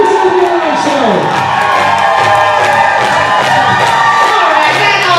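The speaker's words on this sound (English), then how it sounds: "How about some shouting from the crowd? Who's in the Rhinestones? Where are the Rhinestones fans at?" Roller derby crowd shouting and cheering for the Rhinestones in a 2025 bout against the Cherry Bombs, a loud continuous mass of whoops and yells from many voices filling the arena.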